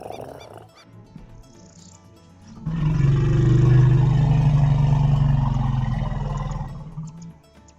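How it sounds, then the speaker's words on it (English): Mother elephant with a roughly four-year-old calf gives a deep, low rumbling reassurance call, a sustained loud purr-like drone that swells in and then slowly fades, with faint outdoor sounds before it. "That's just like a calming reassurance noise from the mum."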